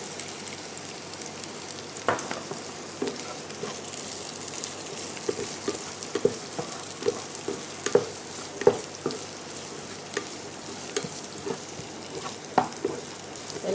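Chopped onions sauté in a pan for chilli chicken, a steady soft sizzle broken by sharp spatula taps and scrapes at irregular intervals, close and without voices.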